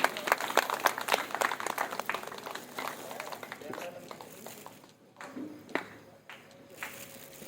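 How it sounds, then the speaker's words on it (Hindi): Audience applause at a Shrimad Bhagwat Katha religious gathering in Azamgarh, a dense burst of many hands clapping that tapers off toward the end, with some crowd noise underneath. "जोरदार ताली बजनी चाहिए"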